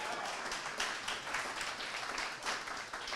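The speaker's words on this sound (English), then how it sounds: "Go ahead, round of applause for Launch Scout." Conference audience at an Elixir programming event claps for a sponsor, a steady patter of applause filling the room at moderate volume, with no talk over it.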